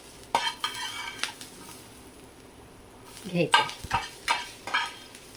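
Onion being stirred into a Vidarbha-style onion vegetable curry in a pan: soft scraping and spoon clinks come in bursts over a faint simmer, with a short spoken phrase in between.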